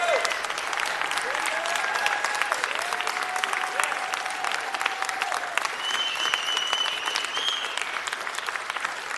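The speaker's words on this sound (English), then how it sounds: "I want you to give a round of applause because her folks are here," Sustained crowd applause at a city council meeting for Brenda Gutierrez and her family, with steady dense clapping and a few faint whistles or voices rising above it.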